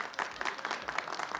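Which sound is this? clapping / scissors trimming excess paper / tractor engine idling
clapping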